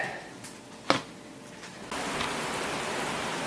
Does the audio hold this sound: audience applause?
no